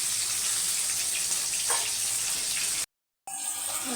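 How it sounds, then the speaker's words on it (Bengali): Water poured into a pan of fish-head and potato curry, a steady hissing rush with sizzling that cuts off abruptly near the end, followed by quieter bubbling. "এবার জল দেবো।"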